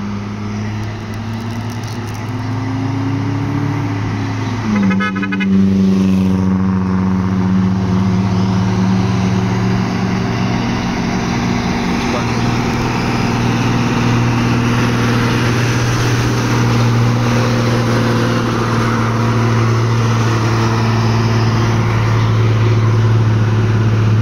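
A Toyota Calya car engine labors steadily climbing a steep hill, a deep continuous drone with a rising pitch early on, loud and close throughout.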